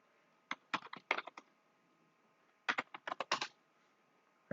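Code being typed on a computer keyboard while writing CSS: two quick bursts of crisp, close key clicks separated by a short pause, quiet overall with no talking.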